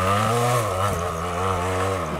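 A Yamaha DT175 dirt bike labors up a steep woodland hill, its two-stroke engine droning loud and close with a steady buzzing whine that wavers as the rear wheel spins near the top.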